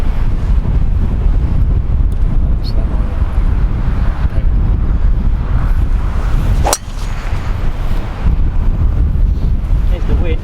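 Strong wind buffets the microphone on an open golf course, a loud, steady roar with gusting surges that runs through the whole stretch, with one sharp brief crack near the middle.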